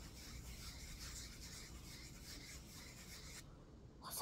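A hair-removal pad rubs back and forth against skin. The rasping scrub is steady and quiet and close, with no voices, then stops abruptly near the end.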